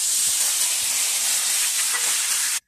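Soaked spices dropped into hot oil with fried onions for a cabbage and dried fish dish set off a loud, steady sizzling hiss that holds for a couple of seconds and then cuts off abruptly.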